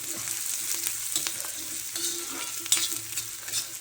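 Onions sizzle and crackle steadily in a hot, thick iron griddle pan, with occasional scraping as they are stirred.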